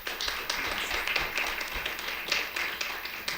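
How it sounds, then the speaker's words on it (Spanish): Audience applause follows a speaker's introduction at an academic talk, a moderate, fairly distant patter of many hands clapping continuously for a few seconds. "un fuerte aplauso nuevamente para ella"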